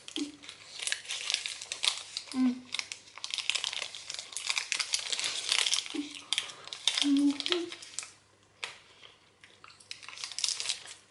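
A sticky strawberry and pear fruit snack wrapper is peeled back with close crinkling and tearing, irregular rustles broken by short pauses, with brief voiced sounds in between.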